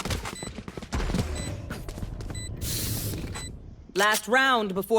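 Gunfire in the tactical shooter Valorant, with bursts of shots and mechanical clicks crowding the first seconds and a loud spray of fire midway, mixed with game sounds and voices talking over it.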